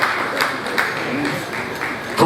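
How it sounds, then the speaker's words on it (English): A conference audience at the 20th ASN Annual Scientific Conference applauds a professor, with steady moderate clapping throughout and a few sharper claps standing out. "Please a round of applause for him."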